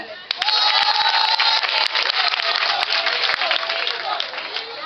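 A dense crowd of mothers applauds at a political rally, steady loud clapping filling the whole stretch after a brief quieter start, with scattered sharp claps standing out.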